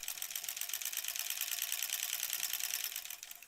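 A sewing machine stitching quilt sashing for a granny squares quilt, running as a fast, even, rapid mechanical chatter that slows and fades near the end, with no voices.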